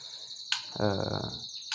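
An oriental magpie-robin gives a clear, high whistled chirp, with a brief low voice murmuring in the middle.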